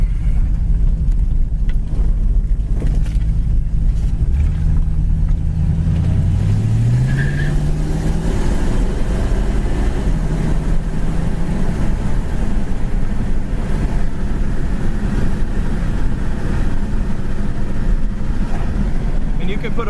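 A 1968 Ford Mustang with a 2-barrel carburetor engine drives along with a steady close engine rumble, a rev that climbs and shifts around seven seconds, and continuous road noise; a person talks over it.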